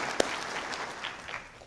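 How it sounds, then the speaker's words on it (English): A seated audience at a college faculty meeting gives a brief round of applause, one sharp close clap followed by soft, diffuse clapping that tapers off quickly. "Round of applause for you."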